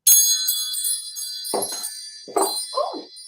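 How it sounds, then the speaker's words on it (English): Wind chimes ring out in a bright, sustained shimmer of overlapping metallic tones, with a few brief bursts of lower, muffled sound breaking in partway through. "let's call in spirit with a little bit of wind chime time"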